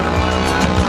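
Hill-climb motorcycle engine running loud and steady at a mountain climb event at Arette, a continuous close engine roar with a deep rumble and slight surges.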